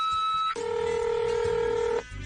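Telephone dialing tones sound as a call is transferred: a short tone, then a longer, louder steady tone lasting about a second and a half before cutting off.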